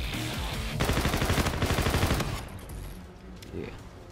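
Rapid assault rifle bursts from Call of Duty: Infinite Warfare multiplayer, a loud, dense stream of fire for about a second and a half that then drops away to quieter game noise.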